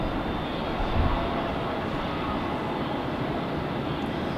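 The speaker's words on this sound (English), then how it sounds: "Boy, Delta's got a bit of a way to taxi out." A Delta airliner taxis at Nashville International Airport, its jet engines producing a steady, distant broadband roar that holds constant without breaks.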